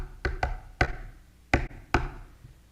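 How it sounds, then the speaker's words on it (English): Five sharp knocks on an old wooden door, loud and close, arriving in an uneven rhythm: a quick pair, a single knock, then two more spaced apart. "They knocked on the rabbi's door."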